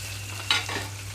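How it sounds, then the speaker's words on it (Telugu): A short burst of onions and green chillies sizzling in hot oil with a quick stirring scrape, close up, under a steady low hum. "కట్ చేసి పెట్టుకున్న ఉల్లిపాయలు పచ్చిమిరపకాయలు వేస్తున్నాము"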